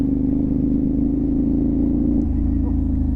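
A Honda PCX scooter engine with its muffler gives a steady low, pulsing hum at close range, with a slight shift in pitch near the end.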